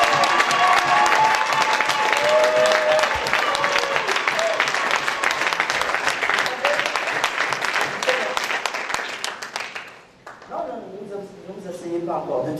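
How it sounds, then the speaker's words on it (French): A church congregation at an evening worship gathering breaks into sustained loud applause and cheering, a dense crowd clapping that fades after about ten seconds as a voice speaks. "Est-ce que quelqu'un peut se mettre debout et qu'il acclame très fort Jésus?"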